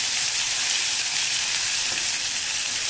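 Ginger garlic paste sizzles hard in hot oil with cumin seeds for paneer masala, a loud, dense, steady hiss of frying close by with no voices.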